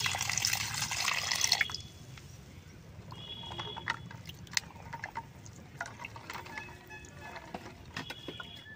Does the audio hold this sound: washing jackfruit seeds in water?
yes